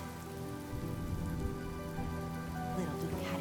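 Steady rain falls in Honkai: Star Rail, a dense even patter on surfaces that holds throughout with no pauses.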